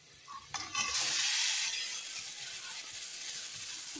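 Marinated chicken hitting a pan of fried onions, a sudden loud sizzle that quickly builds and then settles into steady frying crackle, with no talk.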